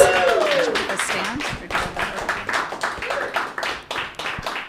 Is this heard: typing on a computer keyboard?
no